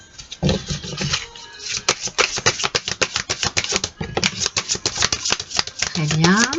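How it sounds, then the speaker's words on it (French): Cards being drawn and handled from a deck during a card reading, a quick run of crisp flicks and snaps, close and fairly loud, with a voice speaking briefly at the start and end. "Je vais tirer 6 cartes."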